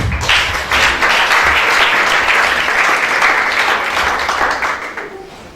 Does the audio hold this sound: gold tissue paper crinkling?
no